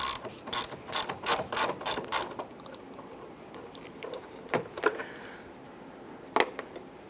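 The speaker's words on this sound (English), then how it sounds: "Remove this 10mm bolt on the front, securing the box in place." Ratchet wrench loosening a 10mm bolt on the air filter box of a 2005-2010 Chrysler 300, a burst of rapid close clicking strokes in the first two seconds, then a few isolated clicks and clanks.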